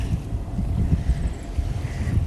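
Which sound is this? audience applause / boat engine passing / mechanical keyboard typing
boat engine passing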